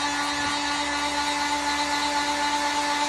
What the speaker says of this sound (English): Take the heat gun,